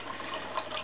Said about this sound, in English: Pump the water out of the bucket in through a coil and back to the bucket again